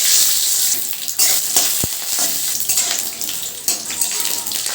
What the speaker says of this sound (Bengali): তেল গরম হয়ে গেছে, কাঁচা বাদামগুলো ভেজে নেব।